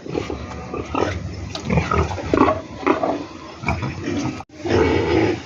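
Pigs grunt and squeal continuously at close range in a noisy pen on a farm, several animals overlapping with loud, rough calls throughout.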